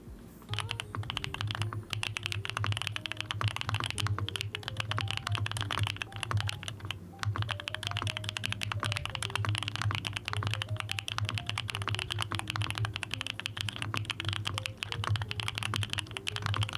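Fast, continuous typing on a mechanical keyboard with creamy-sounding switches and keycaps, dense soft clacks close up and alone for the whole stretch.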